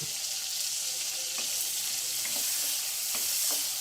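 Cleaned prawns sizzle steadily in a hot pan of oil, with a bright continuous hiss and a few faint stirring scrapes.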